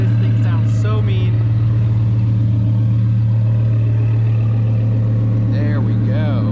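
A twin-turbo Lamborghini Huracan idles and revs with a deep, steady droning engine note that stays loud throughout, while someone talks over it.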